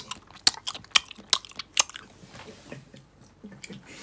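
Close, wet chewing and biting of food, with a run of sharp crunchy bites early on that soften into quieter mashing.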